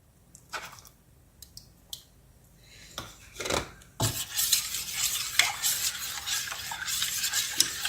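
Ground roasted masala and salt being stirred into a pot of pakoda kuzhambu, starting as a few sparse scrapes and taps of a spoon against the pot, then turning into steady, busier stirring with clinks and a bubbling simmer.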